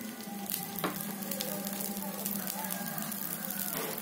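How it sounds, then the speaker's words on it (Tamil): An okra adai dosa fries on a griddle with oil poured around its edge, a steady bright sizzle and crackle heard up close with a few sharp spatters. "சுத்தி எண்ணெய் விட்டுக்கலாம்"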